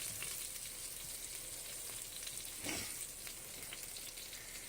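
Meatballs dropped into a hot pan, frying with a continuous loud sizzle and a brief soft thud midway as one lands.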